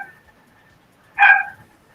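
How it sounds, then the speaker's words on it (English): A single short dog bark rings out indoors in a quiet room, one clear burst against faint background hum. "I don't know what he could possibly be barking at."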